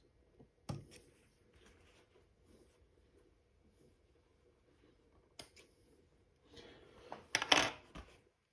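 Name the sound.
scissors snipping sewing machine thread ends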